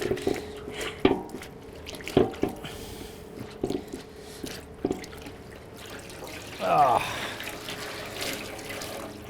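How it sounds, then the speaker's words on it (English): A washed dress is rinsed and wrung by hand in a 1920s-style washing setup, giving splashes, drips and trickles of water in scattered bursts, with a brief louder slosh, while people talk nearby. "Now, do I need to rinse that again? You should really rinse that again."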